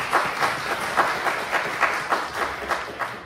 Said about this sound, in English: Give Gary a big hand clap, please